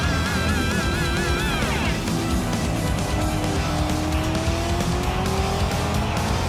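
A category-680 race car in a racing video game screams along at nearly 200, its engine note climbing steadily while tires squeal through corners in a constant loud roar.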